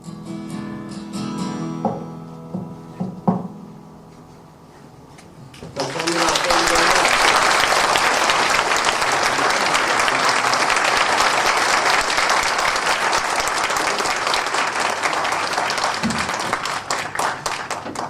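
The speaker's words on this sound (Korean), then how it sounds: "열정적으로 노래해 주신 딕슨 상사에 큰 박수 한 번 더 보내주시면 좋겠습니다." An indoor audience in a lecture hall gives loud, sustained applause right after a sung performance, building from quieter moments into a dense, continuous wash of clapping that lasts over ten seconds, with a voice heard faintly before it swells.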